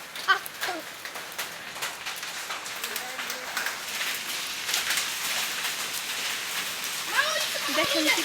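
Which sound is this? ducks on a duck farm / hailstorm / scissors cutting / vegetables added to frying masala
hailstorm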